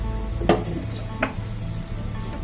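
Tempering seeds drop into hot oil in a pan and splutter with a low, steady sizzle, broken by a couple of brief pops and a light clink of utensils.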